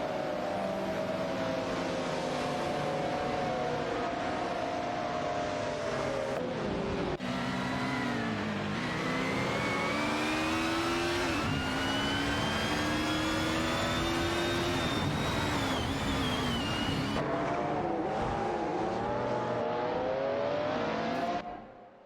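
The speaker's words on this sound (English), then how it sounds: "Racing car dashing away." Racing cars in an AI racing video game accelerate hard, engine notes rising in repeated whining sweeps as gears change, loud and continuous for about twenty seconds, with no talk.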